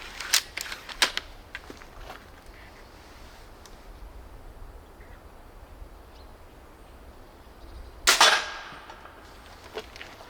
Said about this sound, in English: I hit it a little bit high, but it still managed to crack the coconut, but I'll shoot at it again.